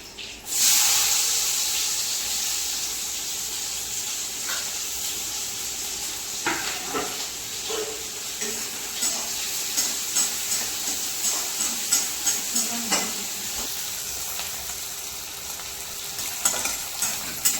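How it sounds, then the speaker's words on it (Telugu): Green chillies and chopped onions fry in hot oil with cumin seeds, a steady close sizzle with a sharp burst at the start and scattered clicks and scrapes of stirring throughout. "ఇదంతా బాగా వేగితే పచ్చిమిరపకాయ బాగా నూనెలో వేగిందనుకోండి"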